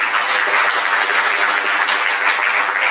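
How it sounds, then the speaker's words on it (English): A conference audience at a mental wellness and counselling event applauds in a dense, steady wash of clapping that holds evenly for a few seconds without any speech. "Round of applause."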